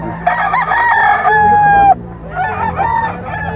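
A Black Henny gamefowl rooster crows loud and close: one full, drawn-out crow, then a shorter rough second call, with faint farmyard background.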